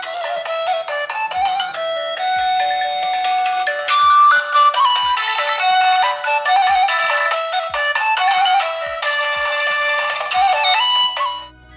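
Tinny music plays through the small built-in speaker of a Microsoft Lumia 430 phone, a steady bright melody with a regular soft beat, thin in the bass, with no talking.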